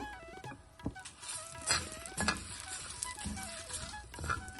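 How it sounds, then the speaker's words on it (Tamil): Urad dal, chana dal and dried chilies roasting in sesame oil over a lowered flame, a soft crackling sizzle with occasional sharp pops and stirring scrapes, fairly quiet and close, no talk. "அந்த எண்ணெயில் உளுத்தம்பருப்பு கடலைப்பருப்பு மிளகா எல்லாத்தையும் நல்லா வறுத்துக்கணும்"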